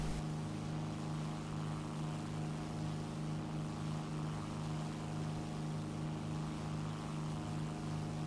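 Twin piston engines of a Bf-110 fighter in War Thunder drone steadily and loudly, a constant propeller hum with layered harmonic tones holding level throughout, with no voices.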